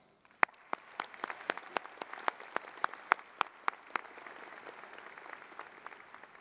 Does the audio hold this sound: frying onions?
no